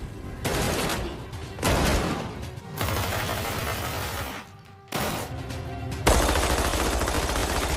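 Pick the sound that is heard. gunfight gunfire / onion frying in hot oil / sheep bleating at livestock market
gunfight gunfire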